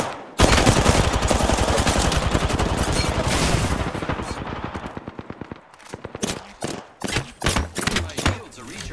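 Automatic weapon fire in the shooter game Apex Legends, a long loud rapid burst followed by separate shots in quick uneven clusters, close and dominant.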